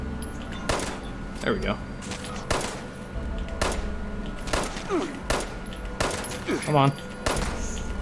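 Sharp 10mm pistol shots in Fallout 76 ring out in a scattered run of single cracks, loud and close, while a player talks briefly over the firing.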